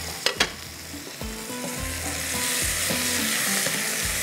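Chicken Mongolian fries in a pan while being stirred, opening with a few sharp clinks before a rising, steady sizzle and hiss settles in, close by, with faint tonal hum in the background and no talking.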